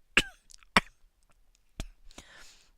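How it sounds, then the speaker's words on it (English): A person coughs in sharp, separate bursts, about four of them, each one short and close. Faint throat noises and breathy sounds fill the gaps in an otherwise quiet room. "This cough is a pain in the neck."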